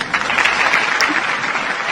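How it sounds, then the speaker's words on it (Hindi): Audience clapping rings out during a comedy prank call, a steady, fairly loud wash of hand claps lasting under two seconds with no break. "वो तो ताली बजानी शुरू कर दिया।"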